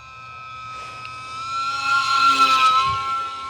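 An E-flite Pitts UMX RC plane on a 3S battery at partial throttle gives a steady high electric motor whine with tonal harmonics, swelling louder toward the middle as it passes closer, with no talk.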